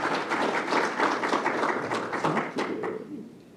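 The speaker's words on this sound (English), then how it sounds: "let's give her a round of applause" Audience applause at a grant announcement ceremony, a dense wash of many hands clapping that stays steady for a few seconds and then tapers off toward the end.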